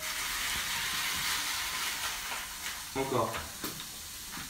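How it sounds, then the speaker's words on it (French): Bacon lardons crackle and sizzle in a frying pan with a constant bright hiss, close up, joined near the end by a few clattering knocks of a utensil and a brief spoken word. "on va prendre nos lardons qu'on va commencer à faire revenir dans une poêle"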